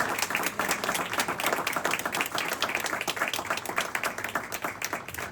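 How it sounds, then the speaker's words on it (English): Steady applause from an audience honoring Habitat for Humanity volunteers at an appreciation program, dense clapping sustained evenly throughout with no voices over it. "Round of applause"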